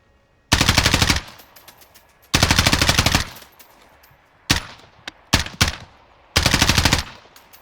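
Pistol gunfire in a video game: four bursts of rapid, evenly spaced shots, each lasting about half a second to a second, with a few single sharp shots between them, loud and close with no talking.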